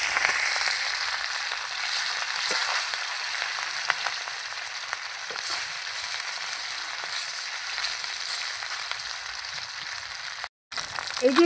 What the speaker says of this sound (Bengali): এই যে এই মাছগুলো কিন্তু আমার ভাজা হয়ে গেছে